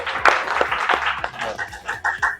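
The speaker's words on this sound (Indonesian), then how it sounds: "Tepuk tangan buat Catur." Brief scattered clapping for a pupil named Catur in a classroom, a few sharp claps mixed with a teacher's voice and light chuckles, moderately loud and uneven.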